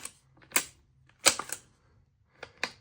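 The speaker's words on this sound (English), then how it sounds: "you should be able to shift it through all the gears and hear it click" Gear shifter on a Yamaha YZ125 two-stroke motor being worked through its gears, giving sharp close mechanical clicks in small irregular bursts with short quiet gaps between them and no talking.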